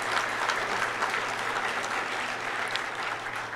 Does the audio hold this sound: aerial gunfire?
no